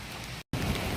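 Heavy rainstorm pours as a dense, loud hiss of falling rain, broken by a very short dropout in the middle.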